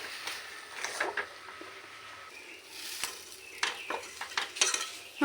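Spoon stirring a thick mixture in a kadai while making dhoka, with scattered scraping and clinking strokes against the pan, fairly close and moderate in volume.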